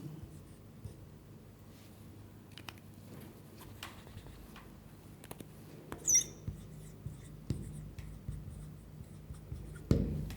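Pen writing on paper, a faint continuous scratchy rustle with occasional small taps and scrapes, close and quiet with no talking.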